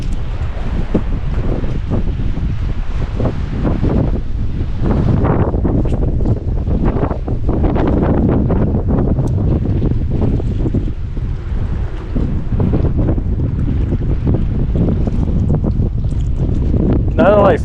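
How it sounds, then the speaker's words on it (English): Strong wind buffets the microphone at a reservoir while someone fishes from the bank, a steady loud rumbling roar that gusts throughout the whole stretch. "Nothing like fishing in the wind."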